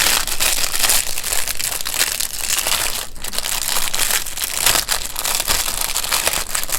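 Plastic wrapping around a 1/25 scale model kit sprue crinkles loudly and continuously up close, with dense crackling bursts and no talking.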